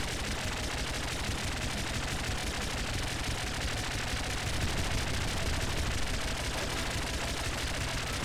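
Rapid, continuous gunfire from the top-down shooter Nuclear Throne, a dense, steady rattle of shots running unbroken throughout at an even loudness, with no talk over it.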